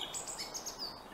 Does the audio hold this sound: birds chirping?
yes